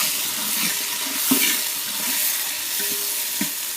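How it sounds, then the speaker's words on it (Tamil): Onions sautéing in a pan for biryani give a quiet, even sizzle with a few light knocks from a stirring spoon. "வெங்காயம் வதக்கி கொடுங்க, நல்லா வதக்கி கொடுங்க"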